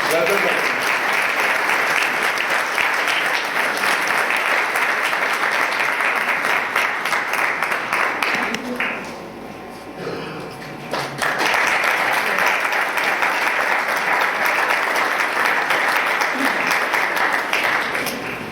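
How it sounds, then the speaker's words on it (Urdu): A church congregation claps steadily and loudly throughout a Sunday service, the applause dipping briefly midway before swelling again to a dense, sustained roar. "ہم سلطنت کے لیے تالیاں بجاتے ہیں"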